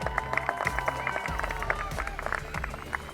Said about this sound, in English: Clap it up for them, y'all